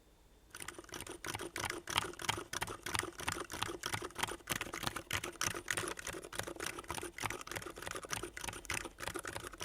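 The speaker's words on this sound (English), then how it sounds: "Then I'm gonna do the typing." Fingers type steadily on a mechanical keyboard with GMK keycaps and MX Silent Red switches, a close, fast stream of soft, muted clacks heard alone.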